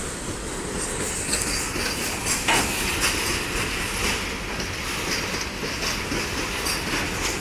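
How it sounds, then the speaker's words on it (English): BNSF 9023 freight train rolling slowly through Effingham, Illinois, a steady close rumble of railcars with rhythmic wheel clatter and occasional metallic squeal, continuous throughout. "This is going to be a long train video, guys, because he's not moving very fast"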